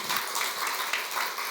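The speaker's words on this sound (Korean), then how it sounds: "저희 박수 한 번 더 할까요?" A church congregation claps together during a Sunday service, a brief, even burst of applause filling the room without a break.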